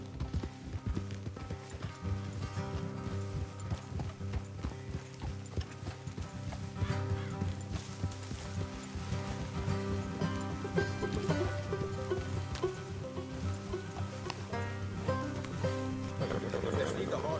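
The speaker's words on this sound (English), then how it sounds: "Let's leave the horses here and go the rest on foot." Horse hooves clip-clop steadily in the video game Red Dead Redemption 2 as riders travel along a road, a continuous rhythmic trot set under background music and ambience.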